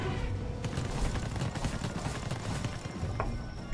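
Rapid gunfire crackles in Palworld during a boss fight, dense bursts of shots close together and loud throughout, with no talking.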